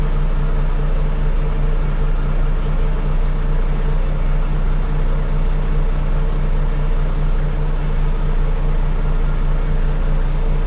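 A dozer engine runs steadily while pushing dirt, a loud, continuous low rumble with a deep droning hum that holds even throughout, without talking.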